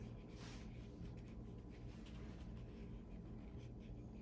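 Crayon or pencil pressed down heavy and dark on paper in an elementary art class self-portrait lesson, a steady close scratchy rubbing that runs through the whole stretch with no talk.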